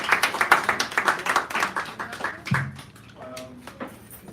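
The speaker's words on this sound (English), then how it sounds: "So give them another round of applause" Audience clapping at a poetry hour in a San Francisco cafe, a modest round of hand claps that thins out after a couple of seconds into quieter room sounds and a brief voice.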